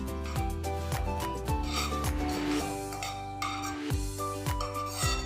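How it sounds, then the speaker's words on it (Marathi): A kadhai is wiped with ghee before baking baati: close, repeated rubbing strokes against the metal pan in a steady rhythm, heard alone. "थोडंसं साधारण नॉर्मल कढई आपल्याला फक्त पुसून घ्यायची होती तूप लावून"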